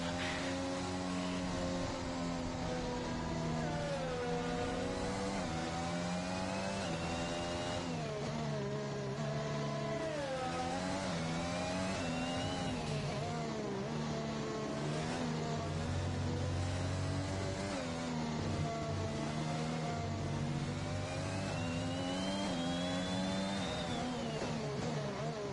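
A race car engine screams through a hot lap of Imola in a racing video game, steadily revving up and down through gear changes with a continuous loud, whining drone and no talking.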